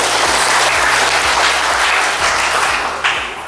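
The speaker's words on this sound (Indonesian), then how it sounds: "Kita tepuk tangan untuk Bapak." Loud, dense applause from a large audience fills the space as a continuous roar of clapping, with a faint low hum running underneath.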